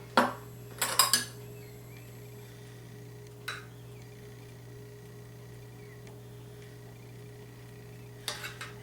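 A spoon scrapes and clinks against a pot of thickening mushroom soup sauce in a few short bursts, separated by quiet stretches over a low kitchen hum.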